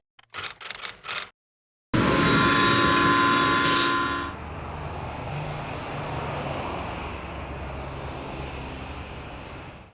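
Onboard rumble of a moving train, starting with a few sharp clicks, then a loud burst with a tonal horn-like hum that settles into a steady wheel roar and rattle lasting several seconds.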